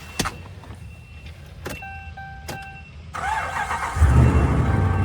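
A Dodge Ram pickup, recovering after dying on the highway, cranks and its engine catches, settling into a steady low idle after a few clicks and a brief whine; close and fairly loud, no talking.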